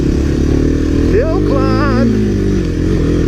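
Engines of 1985–1986 Honda Big Red and 1985 Honda ATC250SX three-wheelers drone steadily and loudly while climbing a trail hill, a continuous close motor roar with someone speaking briefly over it.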